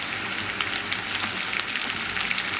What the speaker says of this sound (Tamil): பூண்டு, இஞ்சி, வெங்காயம் போட்டு நல்லா வதக்கி வைக்கணும்.